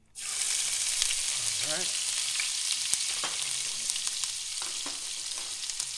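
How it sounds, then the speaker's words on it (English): Ginger frying in a pan for arroz caldo gives a steady, close sizzle that lasts the whole clip, with small stirring clicks and a brief spoken word near the start. "Now we're gonna put our ginger."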